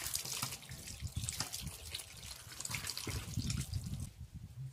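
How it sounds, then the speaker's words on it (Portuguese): Ripe tomatoes are washed under a running kitchen tap, water splashing and trickling over them in a sink with irregular dripping and handling, close and fairly quiet with no talk. "Eu vou lavar aqui todo esse tomate"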